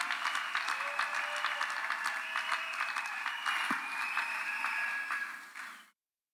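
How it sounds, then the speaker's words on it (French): Steady audience applause fills a wedding blessing ceremony, dense clapping held at an even level for about six seconds before cutting off abruptly. "sous nos applaudissements bien sûr"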